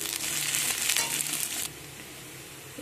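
Chopped green chillies go into a pan of frying eggplant, giving a steady close sizzle and crackle that is loud at first, then eases to a quieter frying hiss with a brief clatter at the end.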